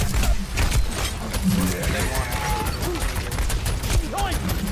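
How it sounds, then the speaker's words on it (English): Pharah's Rocket Barrage ultimate in the Overwatch video game, played in a competitive match, is a dense rapid fusillade of rocket shots and impacts heard under busy game audio and talking players. "Rocket barrage incoming."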